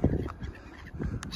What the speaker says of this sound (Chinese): 扔到水里不动，那海鸥就慢慢过来了